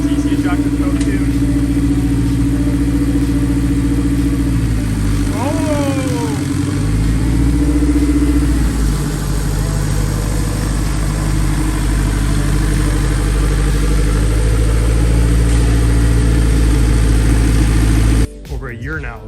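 A K20 turbocharged engine in an all-wheel-drive Honda CRX build runs under its own power, idling loudly and steadily with a few blips of revs partway through, close up, before cutting off near the end.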